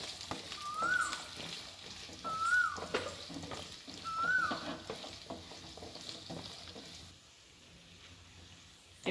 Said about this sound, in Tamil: இது நல்லா எண்ணெயில் போட்டு வதக்கி எடுத்துக்கலாம்